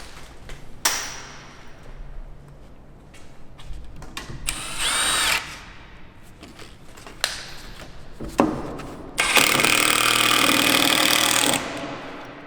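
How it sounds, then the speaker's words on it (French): A power screwdriver drives screws into wood while a chalet is assembled, giving several short whirring bursts of rising pitch, the longest and loudest near the end, separated by quieter handling noises. "Je vais visser mon bois."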